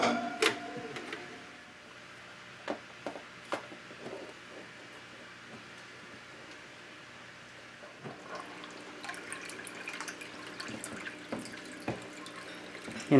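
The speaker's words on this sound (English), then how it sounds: "Alright, I've got my aquarium heater in there, and now I'm going to get the filter installed." Aquarium filter being fitted to a quarantine tank, starting with handling clicks and knocks, then water trickling and splashing steadily from about eight seconds onward, close and fairly quiet.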